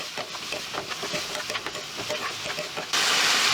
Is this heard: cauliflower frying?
yes